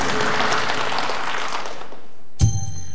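Studio audience at a quiz show applauds for about two seconds, a moderately loud wash of clapping that fades out, followed by a sharp thump.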